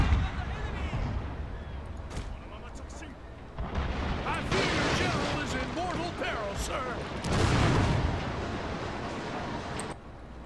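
Artillery guns firing in the samurai-era strategy game Total War: Shogun 2, heavy rumbling booms rolling and layered with dense battle noise over the whole stretch, with a voice speaking across it.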